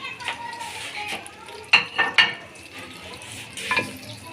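Semolina poured into hot ghee in a pan for sooji halwa, giving a soft sizzle with a few sharp scraping clatters of utensil against pan, fairly quiet overall.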